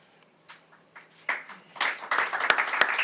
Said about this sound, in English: Let's give it a slow clap, y'all.